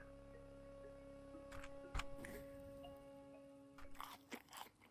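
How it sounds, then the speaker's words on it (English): A meal eaten in Caves of Qud comes through as several crunchy bites and chewing clicks spread over a few seconds, fairly quiet over a faint humming tone. "Alright, let's have myself a meal and continue on our way."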